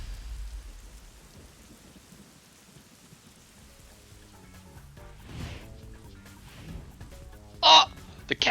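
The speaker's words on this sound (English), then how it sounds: "I hear rain." Soft steady rainfall hisses in the video game Master Detective Archives: Rain Code, with low rumbles, faint crow caws and a sharp burst near the end, mostly quiet and continuous.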